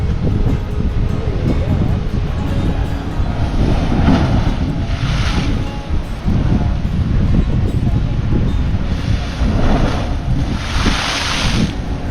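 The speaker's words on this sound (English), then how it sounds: "when a wave comes in, it hits a tunnel under there and shoots it up" Surf surging into the Nakalele Blowhole on Maui's rocky coast, a steady loud roar of waves and wind with swells rising around the fourth and eleventh seconds, while people talk faintly nearby.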